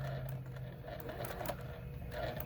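A sewing machine stitches a quarter-inch quilting seam, a continuous close mechanical hum and rattle with a fast steady stitching rhythm throughout.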